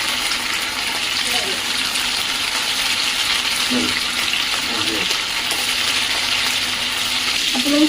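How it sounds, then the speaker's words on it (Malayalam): Chicken frying in hot oil over a high flame at maximum heat, cooked for Schezwan chicken noodles; a steady broadband sizzle runs throughout with faint scattered clinks, and a voice speaks over it. "നമ്മൾ ഹൈ ഫ്ലെയിമിൽ മാക്സിമം ഹീറ്റിലാണ് നമ്മൾ പൊരിക്കുന്നത്."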